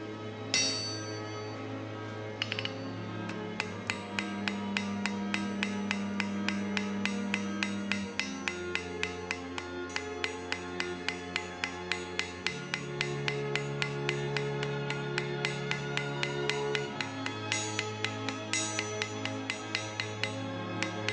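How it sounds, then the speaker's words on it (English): Steady, rhythmic hammer blows ringing on a London pattern anvil while a handheld fuller is used to forge box jaw blacksmith tongs, each strike a sharp metallic clang repeating evenly throughout. "A handheld fuller helps me to isolate the flaps on each side,"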